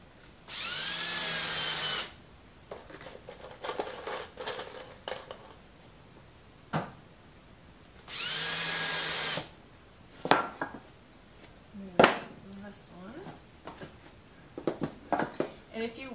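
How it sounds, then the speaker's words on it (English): A power drill drives screws into 2x4 lumber in two loud, steady whirring bursts of about two seconds each, separated by softer handling knocks and a voice speaking. "So I'm gonna start 2 screws. They're gonna go in at 90 degrees."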